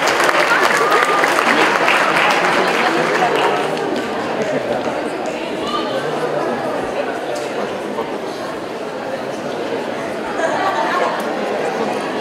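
An audience at a Mexican public event on zero tolerance for violence applauds as officials are welcomed. Dense clapping is loudest in the first few seconds, then fades into softer scattered claps and crowd chatter beneath ongoing speech.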